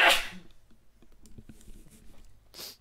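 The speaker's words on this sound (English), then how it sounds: "Sneezing." A single sneeze is caught close on a gaming headset microphone at the very start. Soft clicks and faint tapping follow, and a brief burst of noise comes near the end.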